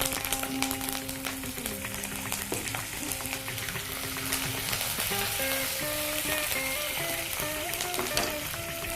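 Cumin, dried red chillies and curry leaves crackle and sizzle steadily in hot oil, a dense, continuous frying hiss close by with scattered sharp pops, while music plays in the background.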